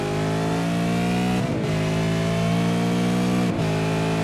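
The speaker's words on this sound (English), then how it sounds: "you can hear the engine revving gear after gear" Race car engine in a racing video game, revving hard and shifting up through the gears with two brief dips between gears, loud and close throughout with no talk.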